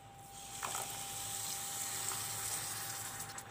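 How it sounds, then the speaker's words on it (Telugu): Water poured onto sugar in a pan to start a syrup for Mysore pak, a soft continuous splashing hiss that swells briefly and then settles, quiet and close, with no one speaking. "ఇదిగోనండి ఇలా వాటర్ యాడ్ చేసుకొని"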